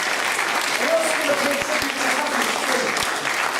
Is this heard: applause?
yes